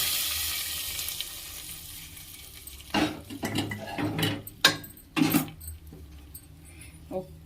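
Hot tempering poured into lentil soup sizzles with a broad hiss that fades, followed by several sharp clinks and scrapes of a spoon or pan as it is stirred in.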